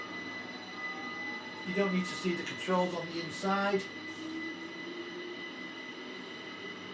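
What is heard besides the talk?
train running in Train Sim World 5 video game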